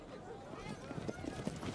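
Rhythmic clip-clop of horse hooves heard as a sound effect, a steady run of moderate hoofbeats mixed under a narrating voice in a dramatized reading of the Book of 1 Kings.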